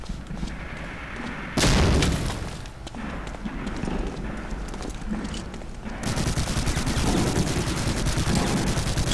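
Explosions and continuous gunfire in the WWII shooter Medal of Honor: Allied Assault, a loud blast near the start followed by dense, sustained rattling fire that grows heavier toward the end.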